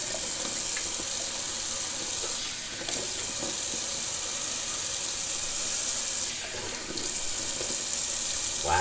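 Cold water runs from a tap into a sink during a wet shave, a steady close hissing splash that dips briefly twice as the flow is interrupted.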